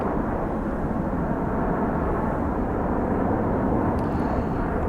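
Fighter jets in a combat flight game, VF-33 aircraft near a Tu-95 bomber over Bear Island, give off a steady, loud roar of jet engines that drones evenly throughout, with no talk over it.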